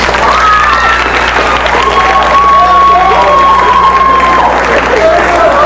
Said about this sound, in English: let's give our dance troupe a nice round of applause